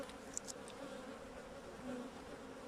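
Honeybees swarm densely around an open beehive in late autumn, making a faint, continuous buzzing drone with a few soft knocks near the start.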